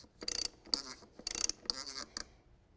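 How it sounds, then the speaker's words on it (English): A socket ratchet runs down a filter bolt on a truck in several quick bursts of sharp, close clicking, separated by brief pauses. "use my same socket here. We're just going to run that down till it seats."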